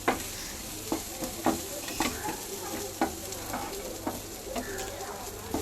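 Idli upma sautéing in a pan, a constant sizzle broken by regular scraping knocks of a spoon stirring about once a second, close up and with no voices.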